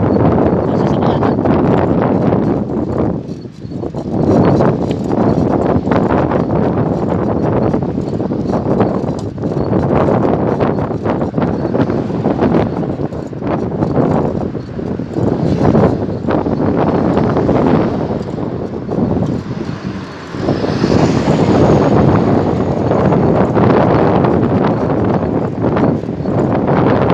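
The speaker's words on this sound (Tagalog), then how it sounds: "Lakas ang hangin." Strong wind buffets a cyclist riding from Al Quoz to Business Bay in Dubai, a loud continuous roar of gusts with brief lulls, close and overpowering.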